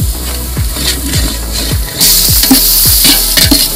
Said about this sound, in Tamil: வெங்காயம் நல்லா பொன்னிறமாக வதங்கிச்சு